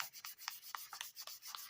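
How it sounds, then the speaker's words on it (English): Fine 2000 grit sandpaper is rubbed with water over the painted case of a 1991 Zippo Slim lighter, giving a soft, faint, rhythmic scratching of short back-and-forth strokes. "I'm just using 2000 grit sandpaper and a little bit of water, and I'm just sanding the paint"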